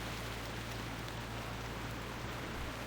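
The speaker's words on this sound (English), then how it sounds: "Boy, it really likes to rain." Steady rain falls in World of Warcraft, a continuous even hiss of dense drops with no breaks, filling the whole stretch at a constant moderate level with no talk over it.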